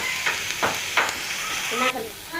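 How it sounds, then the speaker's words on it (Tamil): Curry leaves and grated coconut sautéing in a pan for intestine curry, giving a steady close sizzle and hiss broken by a few short stirring scrapes. "இப்படி கருவேப்பிலை போட்டுக்கலாம். தேங்காய் கொஞ்சம் போட்டுக்கலாம். நல்லா வதக்கிக்கலாம்."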